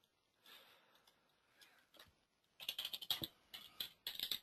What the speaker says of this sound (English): This is where all my typing skills come to play.